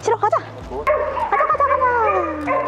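A dog at a school barks and yips in short bursts up close, mixed with whimpering and overlapping people talking.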